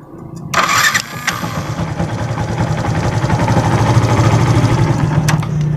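A motorcycle engine cranks on its push starter and catches after a brief whir, then settles into a steady, close, rumbling idle that grows slightly louder.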